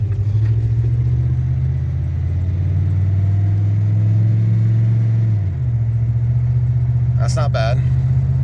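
A car engine drones steadily while driving slowly after a U-joint repair, a loud low rumble that shifts pitch as it changes gear midway, with someone speaking over it.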